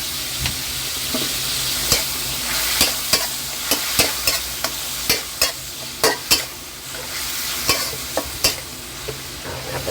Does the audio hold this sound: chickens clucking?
no